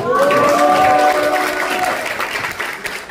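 Audience applause for a speaker at a foundation launch event, a loud, full burst of clapping that slowly fades, with a voice speaking over it at the start.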